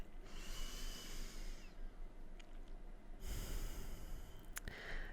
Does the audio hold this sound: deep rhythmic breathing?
yes